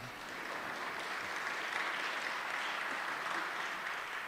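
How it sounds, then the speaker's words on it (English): Applause from an audience at a congressional field hearing in Baltimore, Maryland: a dense, even wash of clapping, moderately loud, with no talk over it. "Go ahead and clap."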